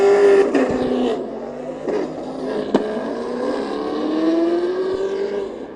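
Drift cars fitted with exhaust systems compete in a desert drift championship in Oman, engines revving and rising in pitch as the throttle opens and closes, loud and close, with no talking.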